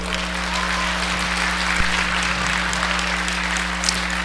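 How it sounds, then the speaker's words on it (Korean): A seated audience at a speech applauds for a guest asked to stand, giving moderate steady clapping over a constant electrical hum from the room's sound system. "박수 한번 보내주세요"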